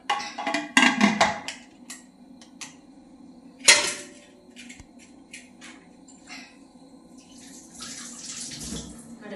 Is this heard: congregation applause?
no